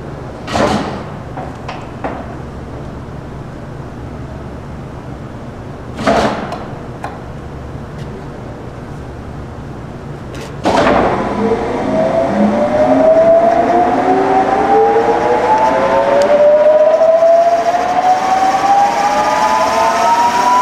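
A 1965 K&T 530TF-20 horizontal milling machine spins up to 1500 RPM: a few sharp clunks first, then a loud, steady spindle whine that climbs in pitch and holds, with no one talking.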